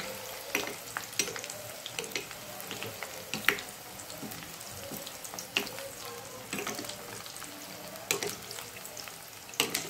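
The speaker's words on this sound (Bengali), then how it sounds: "এভাবে আমি মিডিয়াম আঁচে ফুলকপিগুলোকে ভেজে নেব।" Cauliflower pieces frying on medium heat in a wok of oil, with oil spooned over them: a continuous close sizzle and bubbling crackle broken by frequent sharp pops and utensil clicks.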